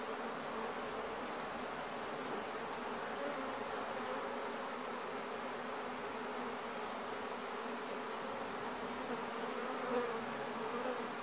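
A dense, steady buzzing of many honeybees around a hive during a swarm transfer, close and continuous without pause.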